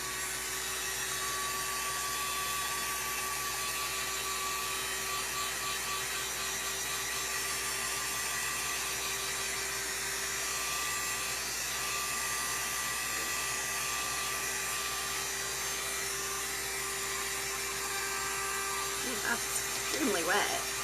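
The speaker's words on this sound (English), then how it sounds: "I luckily just happen to have a blow dryer here." A handheld blow dryer runs steadily on a wet art journal page painted in aqua and teal, a continuous whirring drone that holds for about twenty seconds at close range, with a brief rustle near the end.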